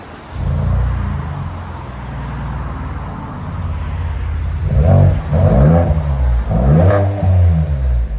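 Ford Edge ST with the 2.7L EcoBoost V6 running LCGP resonators and a rear muffler delete, heard from inside the car as a deep droning exhaust that swells in repeated throttle surges toward the end.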